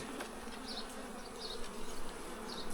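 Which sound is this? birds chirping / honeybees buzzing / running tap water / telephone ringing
honeybees buzzing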